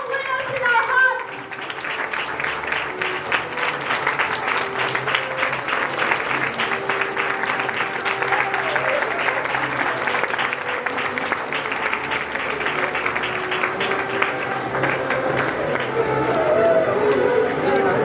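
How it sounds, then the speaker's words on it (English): A crowd applauds at a national moot court competition, with sustained, energetic clapping filling the room throughout, joined by scattered cheers and voices in the background. "Let's give them the biggest round of applause, everyone."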